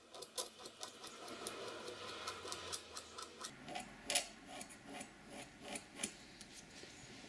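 A knife scrapes the tip of an oboe reed in quiet, close strokes, a soft rasping repeated in a steady rhythm with a few sharper ticks.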